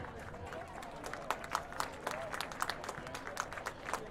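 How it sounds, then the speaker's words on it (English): Crowd applause at a high school football game's hall and wall of fame ceremony, scattered claps popping over a broad, distant murmur of the stands, fairly quiet and uneven throughout. "Let's give those people a round of applause."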